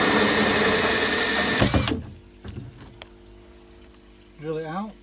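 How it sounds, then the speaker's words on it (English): Power drill with a hole saw grinding through a plastic barrel for a koi pond filter, loud and close for under two seconds before cutting off, followed by light clattering, a brief hum and a short spoken phrase. "Drill it out."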